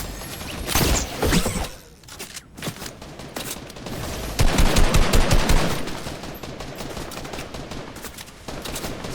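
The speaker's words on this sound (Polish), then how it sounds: "Nie wiem, oni się wszędzie tu strzelają." Gunfire in Fortnite Reload no-build mode, with bursts of rapid automatic shots and scattered single cracks fairly close and loud, coming in uneven clusters with short pauses between.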